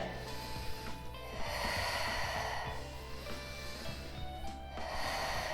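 Deep, strong breaths in and out through the nose during a back-stretching exercise, heard up close as a slow, repeated cycle of airy inhales and exhales with no talking.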